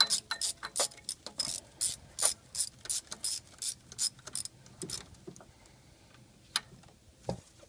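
A ratchet fitted with a magnetic socket clicks rapidly as it turns an ignition coil bolt on a Ford Expedition engine, close and crisp in bursts, then a few scattered clicks and handling noises.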